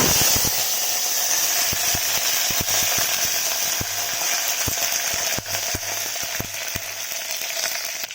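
Cumin and curry leaves frying in hot oil for buttermilk sambar, a loud continuous sizzle with scattered sharp crackles and pops throughout, no talk.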